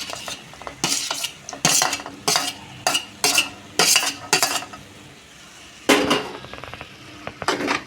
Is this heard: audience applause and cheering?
no